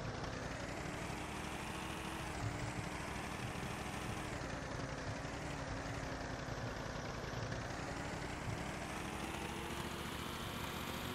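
Big red tractor engine in the farming game Farm Expert 2016 drones continuously while cultivating, a steady mid-low idling rumble at even level with no voices.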